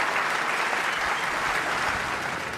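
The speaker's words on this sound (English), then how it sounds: "what a reception Ronnie O'Sullivan gets from this Crucible crowd" Crucible Theatre crowd at the snooker World Championship applauding Ronnie O'Sullivan, a dense, sustained wash of clapping from a large audience, loud and even throughout with no pauses.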